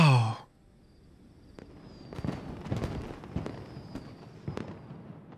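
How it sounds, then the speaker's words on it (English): Fireworks bursting in a Genshin Impact story trailer, a run of sharp cracks and pops at mid distance with a thin whistling streak, after a brief voice at the start. "The fireworks have started."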